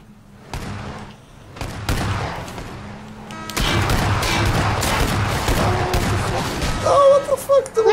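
Gunfire in the video game PUBG, a few separate shots followed by a long loud dense stretch of rapid firing and booming, with a voice talking over parts of it.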